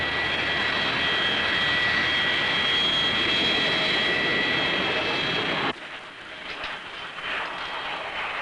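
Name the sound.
aircraft at Heathrow airport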